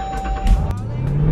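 A Jeep Trackhawk with a supercharged V8 accelerates hard, engine rising in a loud roar with a thin whine sliding upward, while people speak over it.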